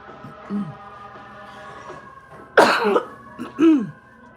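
A sharp, harsh cough bursts out once, followed by a shorter throaty cough a moment later, close to the listener over a faint steady background hum.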